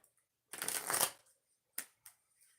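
Playing cards shuffled for a pick-a-card tarot reading: one long riffling burst near the start, then two short, sharp shuffles, close and clear with no talking.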